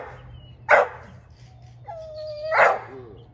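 A trained dog gives two sharp barks on command in a yard, the second followed by a short whine, with a clear tonal whistle-like whimper between them.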